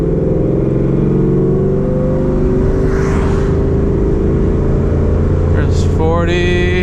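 A 2019 Ford Mustang GT accelerates up to about 40, its engine loud and close with a steadily climbing drone, and a voice speaks briefly near the end.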